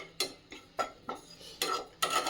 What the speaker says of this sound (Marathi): तीळ छानपैकी असे चटचट उडायला सुरुवात झालेली आहे